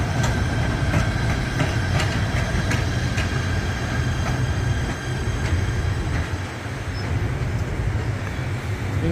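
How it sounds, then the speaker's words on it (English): A PATH train passes through Harrison station with a loud, continuous rolling rumble and steady rhythmic clickety-clack of wheels over rail joints, close by and alone without voices. "In reality, this is quite a cool train."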